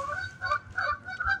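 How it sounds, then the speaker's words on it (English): Geese honk in a quick series of about four nasal calls, moderately close and fairly clear against a quiet background. "I hear geese."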